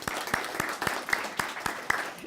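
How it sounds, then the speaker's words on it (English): An audience at a Temecula student awards event gives a short burst of applause, the claps sharp and separate, scattered and fairly light. "We can give her a round of applause"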